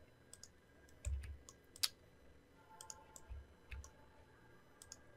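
Sparse mouse clicks during a session of the Everquest computer game, a few isolated sharp taps spread over several seconds against a quiet background with faint low thumps.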